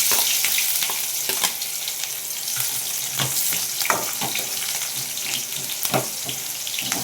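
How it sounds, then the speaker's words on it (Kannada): Onions frying in oil in a kadai for a North Karnataka brinjal ennegayi, with cumin and mustard seeds already in, giving a steady close sizzle and scattered crackles and stirring clicks throughout. "ಈರುಳ್ಳಿ ಸ್ವಲ್ಪ ಚೆನ್ನಾಗಿ ಫ್ರೈ ಆಗಬೇಕು ಎಣ್ಣೆಯಲ್ಲಿ"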